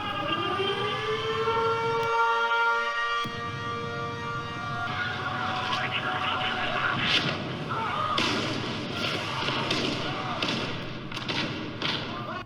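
A wailing siren sound effect with steady rising and falling harmonic tones, joined midway by dull explosion thumps and crackling bursts, loud and continuous throughout.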